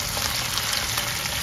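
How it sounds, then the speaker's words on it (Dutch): Smoked dried catfish sizzling and frying in a hot pan for a zucchini dish, a steady dense crackle with no voices, close and even throughout. "En dan zet ik deze met warme vis. Die mag lekker gaan bakken."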